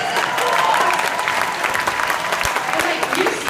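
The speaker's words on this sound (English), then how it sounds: "give yourselves a round of applause" A high school dance marathon crowd applauding, dense continuous clapping and cheering that fills the short stretch at steady loudness, with a voice faintly present underneath.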